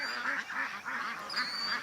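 Ducks leave through a gate at dusk, giving a run of loud, close, repeated honking quacks that overlap with barely a break.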